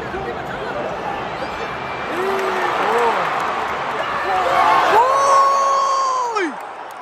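Qatari supporters at a match against Jordan roar in a loud, sustained wall of noise, with rising whoops and yells and scattered clapping swelling and then dropping away.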